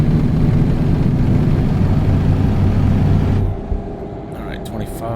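A truck engine in American Truck Simulator drones loud and steady at high revs in too low a gear, then drops away partway through, with someone talking over it.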